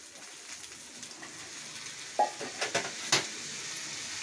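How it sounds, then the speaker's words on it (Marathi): Soaked kurdaya noodles being stirred with onion and chilli in hot oil, giving a soft steady sizzle with a few light scraping stirs against the pan, faint and close. "आता फक्त एकजीव करून त्याला हलवून घ्यायचं"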